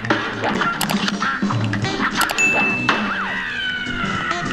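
Cartoon ducks in the Cuphead video game quack among bright game effects, whacks, dings and thuds, with a lively arcade backdrop filling the mix; the sounds are dense and loud, with no one talking over them.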